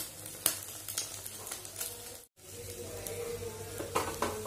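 An egg fries in a hot wok with a steady, close sizzle and occasional spatters and scraping taps, broken by one very brief dropout midway.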